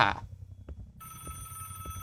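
A mobile phone rings in the horror video game Doors, a sustained electronic ringtone starting midway, heard over low rhythmic throbbing background pulses.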